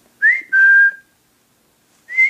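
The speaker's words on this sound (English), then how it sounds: "I'll go call my ponies by whistling." A person whistles loud, clear notes up close: a rising whistle, a long held tone, then another call after a pause.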